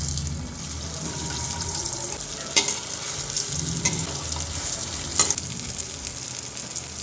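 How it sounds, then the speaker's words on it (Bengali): Vegetarian eggs frying one by one in heated mustard oil with a little turmeric, a steady nearby sizzle broken by a few sharp clacks of a utensil against the pan. "তেলটা হিট হয়ে গেছে, ওর মধ্যে হালকা হলুদ দিয়ে নেব, দিয়ে আমরা যে ডিমগুলো বানিয়ে রেখেছিলাম সেই ডিমগুলো একে একে ছেড়ে দেবো"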